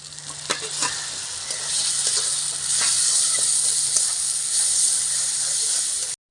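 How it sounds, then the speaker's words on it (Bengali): Coconut, mustard and banana flower paste frying in oil until it releases fat, a loud, dense hiss of sizzling with periodic spatula scrapes and taps throughout, no talking. "নারকেল আর সর্ষে বাটাটা ভালো করে ভেজে নিয়েছি দেখো গায়ের থেকে একদম তেল ছাড়ছে"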